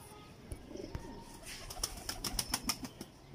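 Teddy pigeons, a mated pair kept for sale, giving soft cooing calls with some wing flapping and rustling, close by and growing busier toward the end, with no talking.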